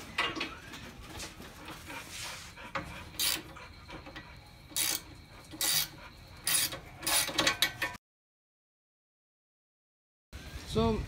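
A ratchet backs out 13 mm bolts on a quad in short bursts of clicking and metallic turning, with pauses in between, a brief stretch of silence, and a final burst of clicks.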